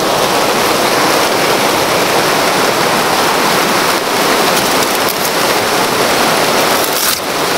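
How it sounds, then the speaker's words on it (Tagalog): Heavy rain drumming hard outdoors, a loud, continuous rushing roar near the microphone with faint irregular patters and no talking. "Ulan tol, basa yung ating kamera ngayon."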